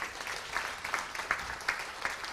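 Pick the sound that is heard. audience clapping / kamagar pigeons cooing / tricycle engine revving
audience clapping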